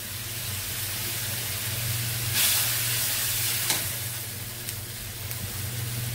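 Ground spices, turmeric among them, fry in a pan with a steady, close, even sizzle and hiss over a low background hum, broken by a couple of brief brighter bursts.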